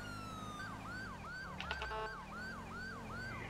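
A police siren in the GTA 5 video game, the Wayland Epsilon model, wailing in a quick repeating yelp pattern at steady moderate volume, with a short burst of horn-like blasts midway over a low background rumble.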